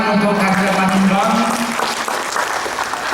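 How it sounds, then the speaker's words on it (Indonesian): Sustained audience applause at the closing ceremony of the KAHMI Rakornas IV national meeting, broad steady clapping from a large crowd while a voice speaks over it at the start. "Tepuk tangan untuk Kakanda Manimbang"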